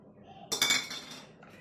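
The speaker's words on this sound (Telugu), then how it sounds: "ఒక 3 ఎండుమిర్చి, పల్లీలు, ఎండు కొబ్బరి ఇవన్నీ ఫ్రై చేసుకుందాము" Dried red chilies, peanuts and dried coconut frying with spices in a pan on a stove, a bright clattering sizzle that bursts in midway and fades over about a second.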